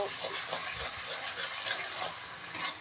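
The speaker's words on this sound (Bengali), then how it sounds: "এভাবে হচ্ছে নাড়তে হবে।" Taro mash being stirred in a pan on a stove over medium-high heat, giving a steady soft scraping and faint sizzle with small bursts, fairly close and continuous.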